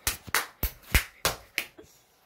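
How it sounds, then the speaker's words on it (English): Six or seven close hand claps in an uneven rhythm, sharp and distinct, fading out toward the end. "Clap."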